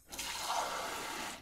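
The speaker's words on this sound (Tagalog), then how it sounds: "Kumuha siya ng 1 baso ng tubig at ipinainom ni Ate Divina iyon kay Ryan." Water poured from a container into a glass makes a soft, steady rushing splash that swells briefly and fades after about a second.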